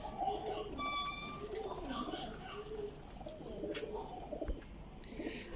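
Teddy pigeons at a loft of champion flying pigeons coo in soft repeated calls, with other bird chirps mixed in and a voice talking over them throughout.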